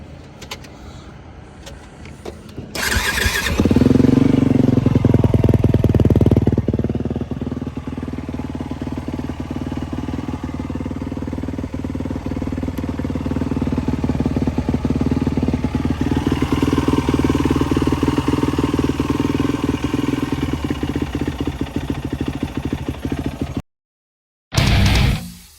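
A Yamaha WR450F dirt bike with a Two Brothers exhaust and a Rekluse clutch starts up with a burst, then settles into a loud, steady, throaty idle. The rumble swells and dips slightly before cutting out near the end.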